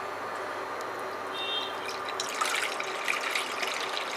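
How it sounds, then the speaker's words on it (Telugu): Water is poured into a pot on a stove to boil for making Agra petha, a steady close trickle that grows louder and splashier halfway through. "సో స్టవ్ ఆన్ చేశాక ఫస్ట్ అయితే మనం వాటర్ బాయిలింగ్ పెట్టేస్తాం."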